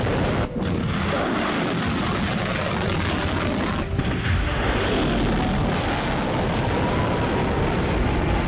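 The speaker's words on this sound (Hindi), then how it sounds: "ईरान की धरती एक के बाद एक रहस्यमयी धमाकों से दहल गई।" A series of mysterious explosions in Iran, heard as continuous heavy booming and rumbling like artillery fire, with sharp louder blasts near the start and around the four-second mark.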